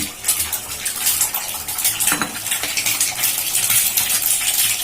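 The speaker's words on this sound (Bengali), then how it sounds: "এখন আমি ফাটিয়ে রাখা দুটো ডিম ভেজে নেব ডিম দুটোকে দিয়ে দিলাম" Two eggs hit hot mustard oil in a wok and fry with a loud, dense crackling sizzle that continues without a break, bright and close, with a spatter of sharper pops near the middle.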